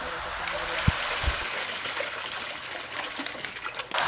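Kwa fruit being washed in water, a steady close rush of splashing and trickling water with a couple of low knocks near the start.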